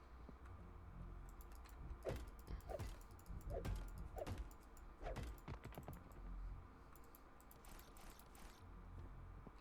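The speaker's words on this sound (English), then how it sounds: "Sorry if you hear my mouse clicking." Faint, scattered computer mouse clicks, some in quick pairs, during play of the game Astrometica, over a low background hum.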